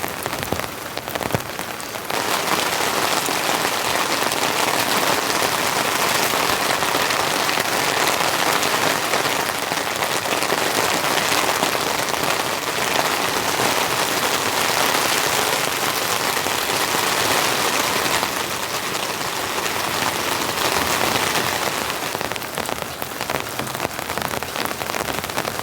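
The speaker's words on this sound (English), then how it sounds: "Man, the rain is just absolutely coming in." Heavy rain pounds steadily on the roof of a compact camper van during a rainstorm, a loud, dense, unbroken drumming that fills the whole stretch with only a slight dip near the start.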